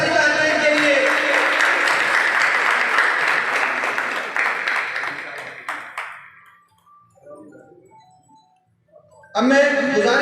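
A crowd at an award ceremony in Samundri applauds loudly and densely for about six seconds, then fades to near silence broken by a few faint sounds before a voice resumes.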